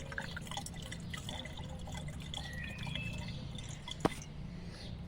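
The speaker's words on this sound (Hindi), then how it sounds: "तो इस तरह से इसको हम छाने ले रहे हैं।" Garlic liquid strained through a strainer into a bottle already holding water, giving a steady close trickle and light dripping with one sharp clink near the end.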